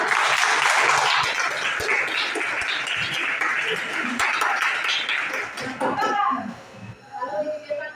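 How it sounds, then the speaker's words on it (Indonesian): A classroom of students applauds a classmate after he solves a math problem at the board: dense, loud clapping fills the room and fades into scattered claps toward the end, with voices mixed in. "Tepuk tangan untuk Bung Bayu ya."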